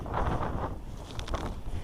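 Heavy wind buffets the microphone, a continuous loud rumbling roar with gusty swells and no voices.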